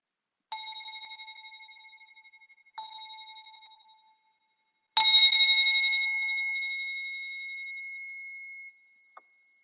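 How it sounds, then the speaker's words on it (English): A small meditation bell is struck three times, the first two strikes close together and the third louder, each leaving a clear ringing tone that slowly decays in an otherwise silent room. "Okay, so I'll ring the bell. I've got a bell here, and we'll start."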